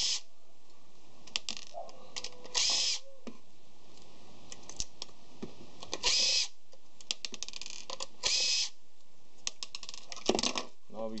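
Screws are worked out of utility trailer light housings, giving faint clicks and small metallic scrapes spread across a quiet stretch, with several brief brighter rattling bursts.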